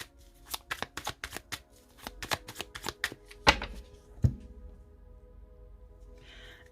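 A deck of tarot cards is cut and shuffled: a quick run of crisp riffling flicks and snaps, close and fairly loud, ending in a couple of sharper taps before quieting.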